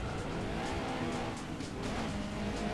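A racing car in Gran Turismo 2 during a mid-engine challenge race roars continuously with engine drone and tire noise, loud and sustained throughout, no speech.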